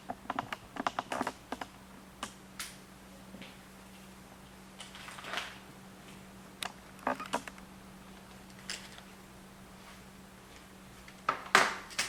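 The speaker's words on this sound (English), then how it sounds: "connect a USB keyboard to the player so that you can do searches a lot more easy" Typing on a USB keyboard plugged into a Seagate FreeAgent GoFlex TV media player: scattered clusters of close, light key clicks with pauses between bursts over a faint steady hum.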